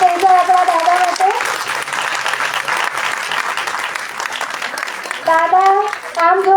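Strong audience applause for an elder speaker at a Gujarati language olympiad session, a dense clapping roar through the middle, with a voice talking over its opening and closing moments.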